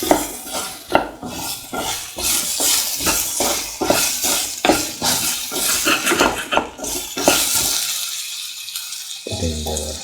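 Eggplant and potato being sautéed and stirred for a stir fry, with a utensil scraping and clanking against the pan in a steady, busy rhythm over a constant sizzle, up close and loud, ending in a brief quiet gap.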